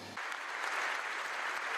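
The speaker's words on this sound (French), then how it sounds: "ce matin à la Sorbonne, ce sont ses pairs qui l'ont applaudi" An audience at the Sorbonne in Paris applauds a pastry chef, a steady, dense wash of clapping from many hands that starts abruptly and holds at an even level, with no talking.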